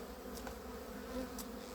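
Honey bees hum in a low, continuous drone around an open hive with wooden frames of wax and honey, steady and fairly close, with a couple of faint taps.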